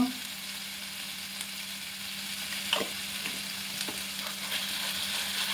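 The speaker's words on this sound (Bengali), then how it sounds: "আমি নাড়িয়ে নেড়ে নেবো কাঁচা ভাতটা বেড়ে যাওয়ার জন্য।" Raw rice frying with turmeric in a pan gives a soft, low sizzle with a few scraping stirs of the spoon. It is fairly quiet and close, with no talking.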